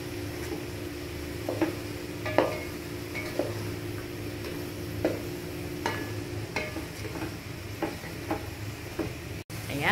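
Carrots for pancit are stirred in a hot pan, a soft steady sizzle with light scraping strokes and occasional utensil ticks against the pan, close and fairly quiet.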